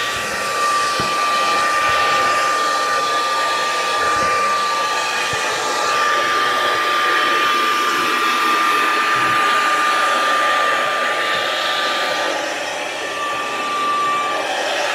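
Heat gun blowing steadily to warm adhesive on a Tesla Model Y, a continuous loud airy roar with a fixed whine that holds for the whole stretch, close up and with no talk.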